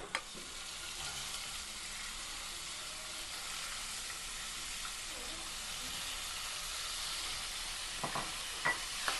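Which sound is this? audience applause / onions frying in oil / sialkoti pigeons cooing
onions frying in oil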